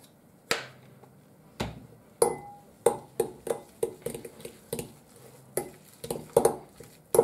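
A spoon or fork mashing egg yolks with mayonnaise in a bowl, sharp scattered clinks and taps against the dish at an uneven pace, close and clear, with no talking.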